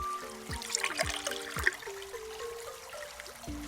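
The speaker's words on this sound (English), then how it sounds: "That egg held the right amount of water to fill that hole." Cartoon water trickling and gurgling as it fills a hole in the Dinosaur Train drinking game, a soft, steady pour with bouncy musical blips over it, fairly quiet and with no talking.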